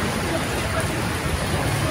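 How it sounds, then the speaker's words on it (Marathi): A heavy downpour hisses steadily outdoors at a temple, with a person talking over the constant wash of rain. "माझा बर्थडे घाण करतोय पाऊस"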